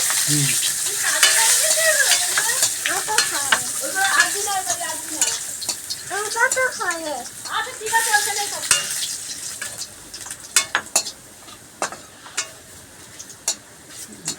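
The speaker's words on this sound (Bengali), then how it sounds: "আর একটু রসুন ফোড়ন দিলাম" Garlic fries in oil as a tempering for a silver carp fish curry. A close, steady sizzle carries clattering stirring strokes, and voices can be heard in the background.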